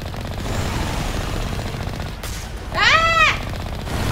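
Rapid gunfire from the sci-fi shooter Mass Effect Legendary Edition during hardcore planetary exploration, a steady rattling burst under a game soundscape, followed by a short rising electronic chirp.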